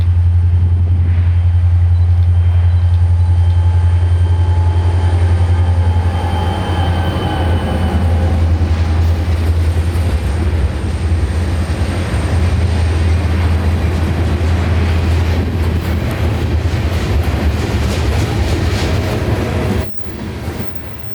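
CSX train 750 rolls past on the Palmetto Subdivision, a loud, close rumble with a deep steady engine drone that gives way to a long clattering stream of wagons.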